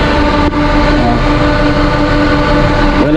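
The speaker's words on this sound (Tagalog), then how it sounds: "Lakas ng fan niya oh" A power amplifier's cooling fan runs loudly, a steady dense whir with constant hum tones, close and unbroken apart from a brief dip near the start.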